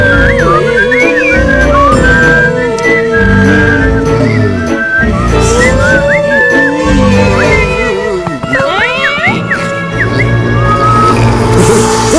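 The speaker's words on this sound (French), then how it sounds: "Dépêche-toi de siffler," In an animated children's cartoon set on an island, a character whistles a melodic tune with gliding, warbling notes over a musical background, with loud sound effects and talk interspersed.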